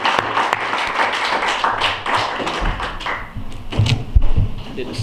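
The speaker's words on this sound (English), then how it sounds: "I'd like to just give a round of applause for you and everything you've done for us this" A church congregation at an Intercontinental Church of God Last Great Day service in Grand Rivers, Kentucky, breaks into a round of clapping, with dense, uneven hand claps filling the hall and some voices mixed in.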